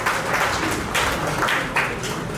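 Audience applause at a Hindi poetry and literary festival, a sustained wash of clapping from a large crowd with a few swelling bursts, steady and fairly loud throughout.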